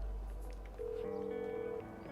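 A phone dials out in GTA V to call a cab, giving a short series of electronic keypad tones followed by a sustained tone, clear and close over a low game background.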